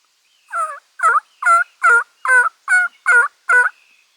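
Wild turkey toms in Oklahoma gobble in a quick, even series of about eight loud, close calls, spaced roughly half a second apart.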